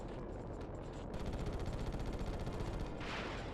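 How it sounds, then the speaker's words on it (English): Sustained machine gun fire in the Ratchet & Clank video game, a steady rapid rattle of shots at even rhythm that runs for several seconds, moderately loud and without speech. "We have machine guns."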